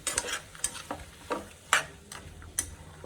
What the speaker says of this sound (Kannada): ಇದನ್ನು ನೀಟಾಗಿ ಫ್ರೈ ಮಾಡಿಕೊಂಡು